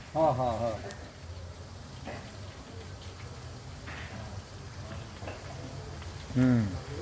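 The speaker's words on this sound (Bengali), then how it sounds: "তেল গরম না তো, পেঁয়াজ ভাজা হচ্ছে" Onions frying in hot oil give a steady, low sizzle that runs through the whole stretch, with voices talking nearby at the start and again near the end.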